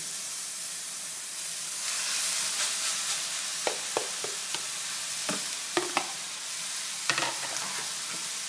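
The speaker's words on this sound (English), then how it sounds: "You want to toss the onions and the mushrooms and the rice together." Rice, onions and mushrooms get tossed and stirred in a hot pan over a continuous steady sizzle, with scattered sharp clicks of a utensil against the pan growing more frequent in the second half.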